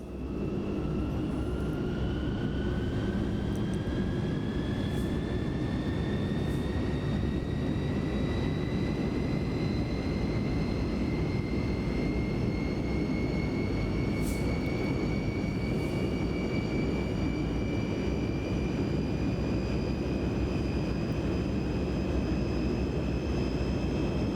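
A NAMC YS-11 turboprop engine starts up in the MSFS 2024 flight simulator, its whine climbing steadily in pitch over a constant loud roar, with no speech.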